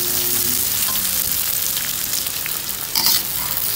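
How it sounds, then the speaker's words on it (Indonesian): Garlic and shallots stir-frying in a pan, a loud, dense, continuous sizzle with intermittent spatula scrapes and a brief flare of crackling toward the end, close and without talk. "kita tumis bawang putih dan bawang merahnya. Ya, kita aduk-aduk"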